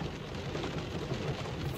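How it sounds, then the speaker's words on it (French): Heavy rain pouring down outdoors on a road trip in Canada, a dense continuous hiss of falling water with no voices. "On peut clairement rien faire là sous la pluie."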